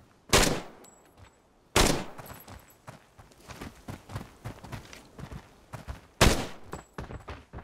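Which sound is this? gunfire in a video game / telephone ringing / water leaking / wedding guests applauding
gunfire in a video game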